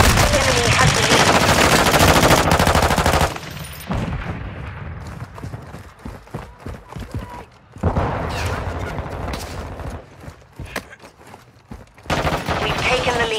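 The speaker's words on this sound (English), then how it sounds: "I'm taking fire!" Rapid automatic gunfire in the Call of Duty Modern Warfare 2 multiplayer shooter, with a dense loud burst at first, then scattered shots and bursts with quieter gaps, and another volley at the end.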